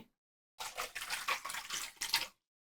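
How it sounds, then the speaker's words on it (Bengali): Hot water pours in a short steady gush for about two seconds to rinse out a cooking pot, close and alone, with silence before and after. "একটু গরম পানি দিয়ে পাতিলটা ধুয়ে দিচ্ছি"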